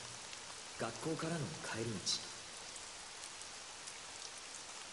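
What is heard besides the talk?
rain falling in Granblue Fantasy video game scene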